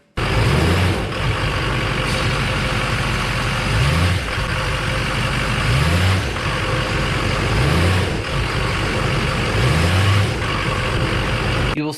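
A 2005 GMC Sierra 2500HD truck engine revved in gear with the brake held, a loud, close engine drone broken by five evenly spaced rev surges roughly every two seconds, with a faint voice underneath.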